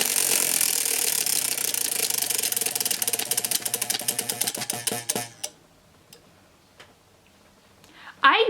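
A TBR prize wheel spins with rapid, loud ticking that gradually slows and spaces out before stopping, leaving near silence and a voice starting at the very end.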